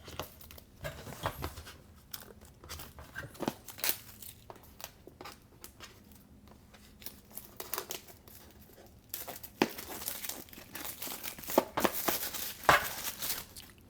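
Plastic shrink wrapping torn and crinkled off an HTC U12 Plus phone box after a small slit, heard as close, irregular crackling and rustling bursts that grow busier toward the end.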